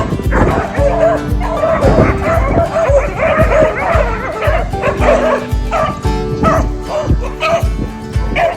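Several farm dogs bark, yip and whimper excitedly in rapid, overlapping bursts, loud and close throughout.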